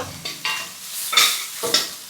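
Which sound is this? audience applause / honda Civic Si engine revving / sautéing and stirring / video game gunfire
sautéing and stirring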